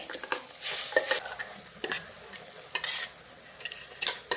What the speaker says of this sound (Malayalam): ഇനി നമുക്ക് അരച്ച് വെച്ചിരിക്കുന്ന അരപ്പങ്ങ് ചേർക്കാവേ.